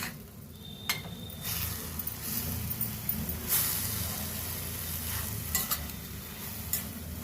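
Cabbage and tomato frying in a pan, with a steady sizzle under repeated sharp clinks and scrapes of a spoon stirring against the metal, close and fairly loud, with no voices.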